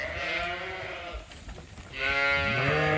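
A lamb stuck on a sheep farm bleats loudly and close, with two long wavering cries separated by a brief pause filled with rustling.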